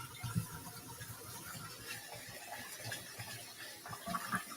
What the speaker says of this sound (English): You just gotta keep rinsing it until the water turns clear.